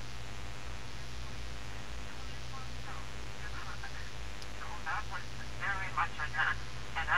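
A repaired Crosley Super Trirdyn vintage radio picks up a signal: a steady hiss and low hum fill the background while faint broadcast voices and tones emerge, growing toward the end.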